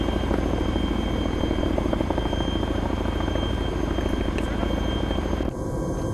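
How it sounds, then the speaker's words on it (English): An Arma military helicopter idles close by, its rotor producing a loud, rapid, steady thumping with a constant engine whine, continuing throughout before dipping slightly near the end. "Command, the helicopter just wants you to get in."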